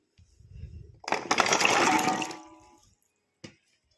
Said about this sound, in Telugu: దీన్ని ఫస్ట్ శుభ్రంగా కడుక్కోవాలి